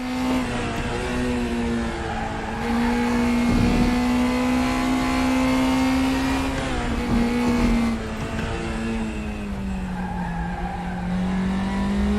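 NSU race car in a racing video game lapping Bilster Berg Westschleife: a loud, continuous engine drone that rises and falls with throttle and gear changes, with tire squeal throughout and no talk.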